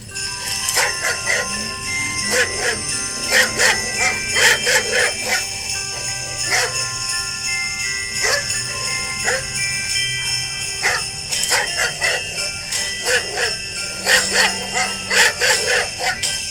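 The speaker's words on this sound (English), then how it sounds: "we got autistic dogs singing Jingle Bells" Dogs barking in a tune to a jingling, bell-like melody, rhythmic bursts of barks repeating over bright sustained chime tones.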